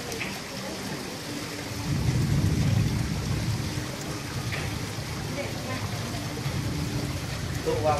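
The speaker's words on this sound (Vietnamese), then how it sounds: "Nước mưa xuống rồi nha" Steady rain falls on a garden koi pond at night, a dense continuous hiss with low rumbling swells, while people talk faintly in the background.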